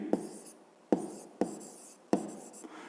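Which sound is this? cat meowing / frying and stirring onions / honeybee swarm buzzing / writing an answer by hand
writing an answer by hand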